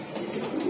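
A pigeon gives a brief, soft, low coo close by, lasting under a second, with no talk over it.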